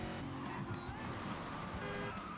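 A racing car engine in the video game Gear Club Unlimited 2 drones steadily and loudly, its pitch rising and falling as it revs, with faint tire noise underneath.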